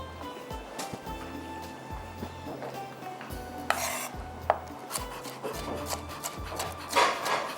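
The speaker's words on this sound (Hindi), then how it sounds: "पहले मैं कैप्सिकम को यहाँ पर इस तरह से कटिंग करके रख लेती हूँ।" A capsicum being cut on a board, heard as a series of soft, irregular knife taps and rubbing scrapes close by, with some clatter from kitchenware.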